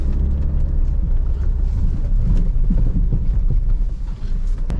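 A Jeep Meridian 4x4 driving fast over a rough off-road track, with loud continuous rumbling, road roar and wind buffeting close to the microphone.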